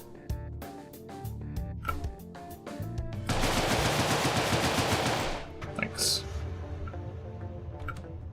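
Lever-action rifle fire in the video game Deadbolt: a rapid string of loud, sharp shots over game music and effects, then a dense burst of noise, then scattered later clicks.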